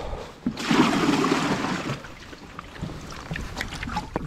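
Water sloshing inside a small boat as herring are rinsed clean, a wet churning swash that swells early and then settles into softer lapping, close by and with no talk.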